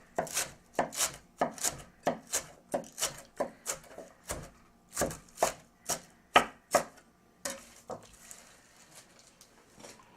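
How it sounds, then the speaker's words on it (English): A knife chops lobster meat on a wooden board in about sixteen steady, evenly spaced thuds that come close and clear, then briefly shift to softer scraping at the end. "And then I take those guts, give it a little chop."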